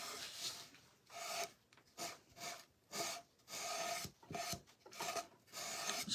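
Burnt umber paint rubbed across a wooden box makes a rasping, scrubbing sound in repeated close strokes, each lasting about half a second to a second with short pauses between.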